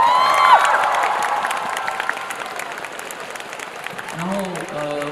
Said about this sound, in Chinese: 给自己一点掌声跟鼓励